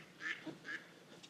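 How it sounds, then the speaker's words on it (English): Several mallard ducks squabble on a bank, giving a few quiet, fairly distant quacks in quick succession with no talking. "those ducks are fighting now"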